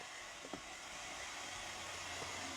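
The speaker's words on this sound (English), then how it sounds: "if you can hear a noise in the background, someone's drying their hair." Hair dryer running in another room, a faint steady broadband whoosh holding evenly throughout, distant and low, with no talking.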